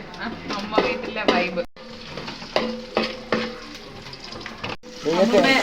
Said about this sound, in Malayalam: ആദ്യം തേങ്ങ വറക്കുകയാണ്